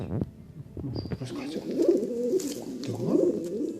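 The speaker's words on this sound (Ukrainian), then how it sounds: "голуб, котрий ніби намагається це сказати" A pigeon coos in low, throaty warbling phrases, close and steady, with a brief higher chirp early on.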